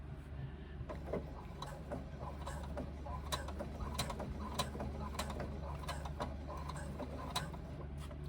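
A sewing machine labours to feed marine vinyl through a pocket pouch, giving a quiet, uneven run of mechanical ticks and clicks over a low steady hum.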